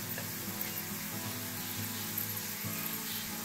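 Onion frying in a pan with red chilli powder and turmeric gives off a soft, steady sizzle with faint stirring scrapes, quiet and close, no talking.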